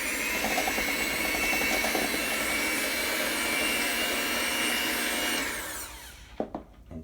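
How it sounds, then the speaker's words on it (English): A Black & Decker electric mixer beats oatmeal cookie dough with a steady, close whirring drone for about five seconds, then winds down and stops, followed by a few light clatters. "I have this Black & Decker mixing thing that is pretty good for the job"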